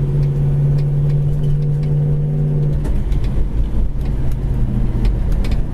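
A 1969 Chevelle Super Sport with a 396 engine drives past up close, its steady low drone dropping sharply partway through as it shifts gear, then pulling on at a rougher, lower note.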